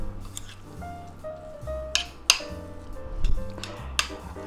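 Cooked rice being stirred into chicken and vegetables in a bowl, with soft squishy mixing sounds and a few light clinks of a utensil against the bowl, close and fairly quiet.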